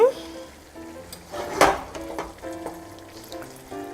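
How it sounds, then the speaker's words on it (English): Chardonnay white wine hits a hot pan for a Bolognese sauce and bubbles into a quick boil, a soft hissing sizzle with a sharper burst near the middle, under light talk and faint pan sounds. "And we're gonna let it come to a boil, which is doing like immediately"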